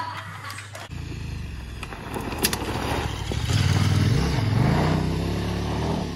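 Dirt motorcycle engine rising in pitch as it revs hard for a wheelie at an off-road riding training camp, a loud sustained drone with wind and clatter throughout.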